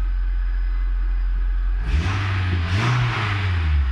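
A car engine cranks and catches after a steady low hum, then settles into a running idle with a brief rev, close and fairly loud.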